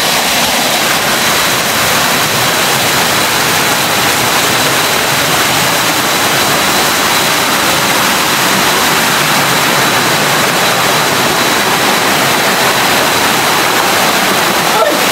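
Balensasayao Twin Lake waterfalls roar in a steady, loud broadband rush that fills the whole stretch without a break, with no voices over it.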